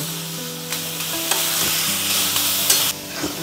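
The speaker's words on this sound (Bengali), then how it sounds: "এইভাবে আমি বেশ কিছুক্ষণ এটাকে এইভাবেই নাড়াচাড়া করব।" Fig (dumur) curry vegetables being stirred and fried in a pan, with a spoon scraping and clinking in rhythmic strokes over a steady close sizzle.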